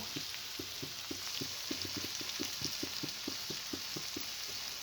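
Chili, cumin, coriander and turmeric powder sautéing in a pan for prawn malai curry, a soft steady sizzle with a regular rhythmic tapping of a spoon against the pan, faint and close, no talk.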